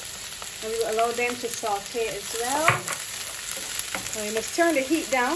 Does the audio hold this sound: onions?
yes